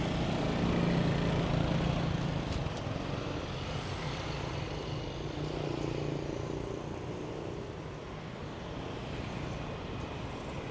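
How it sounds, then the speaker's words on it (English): Road traffic in Siem Reap, Cambodia, heard as a steady, fairly quiet rumble of passing vehicles with a few swells in loudness and no talking. "I see traffic here."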